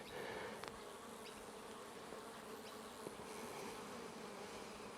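A dense swarm of honey bees drones around a hive, a steady, even hum that stays constant throughout without pauses, with no voices present.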